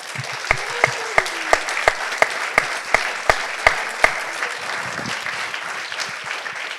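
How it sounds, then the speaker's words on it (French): An audience at a public hearing breaks into applause, a dense wash of clapping with a steady run of sharp, evenly spaced claps standing out near the front, then the clapping thins and fades toward the end. "je propose qu'on vous applaudisse les Simon de Cyrène qui nous fassent confiance"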